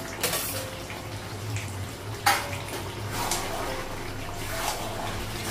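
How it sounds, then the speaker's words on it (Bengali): Water poured into a pot of mutton curry with potatoes in a home kitchen to make the gravy, a steady splashing pour running throughout with a few brief louder clinks and splashes, close by and without speech. "আর ঝোলের জন্য জল লাগাবো, জল লাগিয়ে দিয়েছি"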